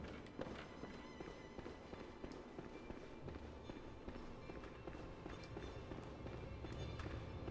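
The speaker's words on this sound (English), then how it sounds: "We gotta run around here, listen to the footsteps." An invisible boss's footsteps patter continuously in the video game Bloodborne, quick faint steps and taps repeating steadily across the whole stretch at low volume.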